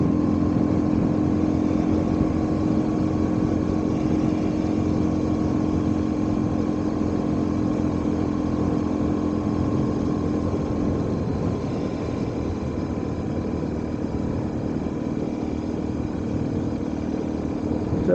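A BMW R1100S motorcycle holds a constant speed on a mountain road in Wales, its engine giving an unbroken, even drone mixed with rushing wind that stays loud and steady throughout, with no talking.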